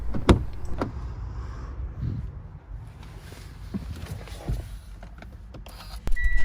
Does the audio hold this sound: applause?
no